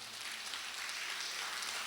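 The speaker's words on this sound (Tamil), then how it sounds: "அவருக்கு மீண்டும் ஒரு கரகோஷம்." An audience at a book launch claps together in a steady, dense wash of applause, heard from a moderate distance and fairly quiet, with no voices over it.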